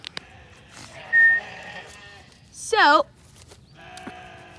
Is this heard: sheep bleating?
yes